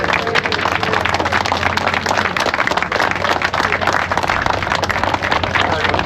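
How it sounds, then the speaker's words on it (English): Outdoor crowd at a charity motorcycle memorial ride applauding, a dense, steady wash of clapping with some voices mixed in for the full six seconds. "So give yourself a big round of applause."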